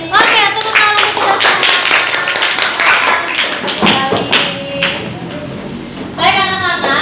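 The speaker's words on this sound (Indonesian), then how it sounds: "Oke, tepuk tangan kita" Students clapping hands together in a classroom, sharp, loud patterned claps in bursts with children's voices chattering and calling out between and over them.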